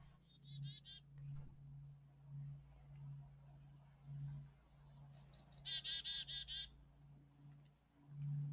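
A black-capped chickadee gives short high calls, a brief chattering burst followed by a quick run of repeated notes, heard mid-distance over a steady low hum and a person talking.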